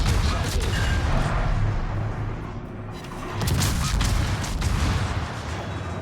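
Warship guns firing in a naval battle game, deep rumbling booms rolling continuously with a heavy low-end wash, briefly easing midway before swelling again.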